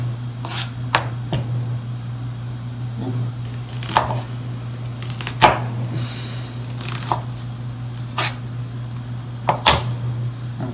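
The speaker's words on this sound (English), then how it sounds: "So for the onions, simple, just chop them finely, but not super finely." Onions being chopped with a knife, sharp scattered knife taps on a board at irregular intervals over a constant low hum, with soft voices in the background.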